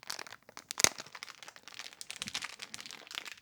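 Plastic packaging on a single-board computer being torn open with teeth, a quick series of crinkling and crunching rips with one sharp crack, close and fairly quiet, no talking.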